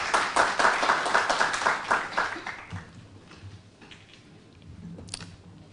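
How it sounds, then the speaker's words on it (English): An audience at a forum on modern direct democracy claps loudly for about three seconds, then the applause thins to scattered faint claps and low room noise. "A big round of applause."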